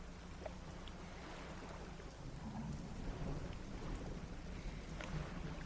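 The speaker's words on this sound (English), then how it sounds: "It's just thunder. That's no big deal." Steady rain and low rolling thunder in a video game, a dense rumbling wash that swells slightly midway and holds with no voices over it.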